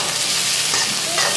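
Onions frying in a hot pan while being stirred, a loud, dense, continuous sizzle close up, no talking.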